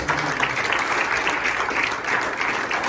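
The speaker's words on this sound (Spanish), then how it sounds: "Dale un fuerte aplauso a la gloria de Dios." A church congregation claps steadily in praise, a dense, even burst of applause filling a short stretch with no voices.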